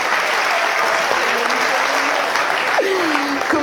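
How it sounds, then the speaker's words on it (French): Audience applause at a French stand-up comedy show: a dense, steady wash of many hands clapping that fills the whole stretch at even loudness, with a faint voice briefly rising above it. "Par applaudissement."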